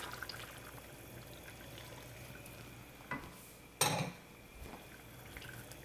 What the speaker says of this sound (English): I'm going to go ahead and add the lemon juice.